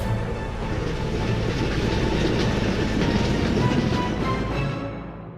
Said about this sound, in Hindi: तभी ट्रेन चंपकला स्टेशन पर आकर खड़ी हो जाती है